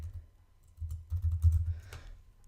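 Close, quick taps on a computer keyboard come in an uneven burst of keystrokes, alone against a quiet background.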